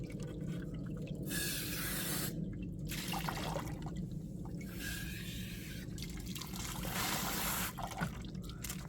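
Tumbled gemstones get rinsed off under water, with steady running and splashing broken by short pauses, close and fairly quiet.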